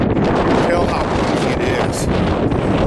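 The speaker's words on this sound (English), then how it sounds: "You can tell how breezy it is." Strong wind blows hard across the microphone, a constant loud rumbling roar with no pauses.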